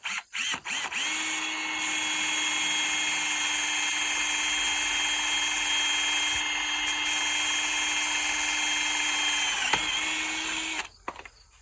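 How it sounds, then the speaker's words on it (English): A power drill bores pilot holes in wood for cadmium-plated screws during upgrades to a Woodland Mills sawmill, a steady high whine of about nine seconds that dips briefly under load before winding down, with short clicks at start and end. "I should put the screw in first, but I'll just drill one on this side too."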